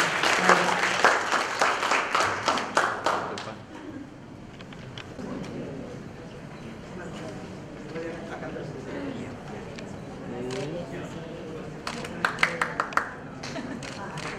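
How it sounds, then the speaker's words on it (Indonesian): Audience applause for panel speakers at a World Press Freedom Day 2017 event on media in conflict and crisis: loud, dense clapping for about three seconds fades into murmured talk, with a short burst of claps returning near the end. "boleh tepuk tangannya sekali lagi kepada para pembicara kita"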